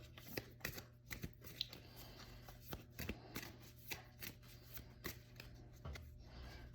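An oracle card deck is shuffled close by in a steady series of quick papery riffles and soft snaps, with no voices.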